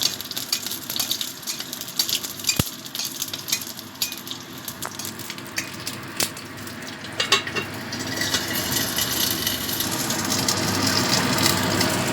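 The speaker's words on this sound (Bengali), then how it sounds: "আর কাঁচা লঙ্কাটা ভেজে নিচ্ছি" Garlic and green chillies frying in hot oil in a pan, a loud continuous close sizzle with occasional spatula scrapes and taps, growing denser toward the end.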